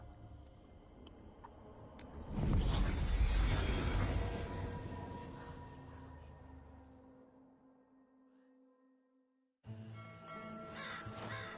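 Crows caw in Dragon Age: The Veilguard, in the occupied Antivan city of Treviso, heard as harsh calls within a loud ambient swell that fades out before a brief return of layered background sound.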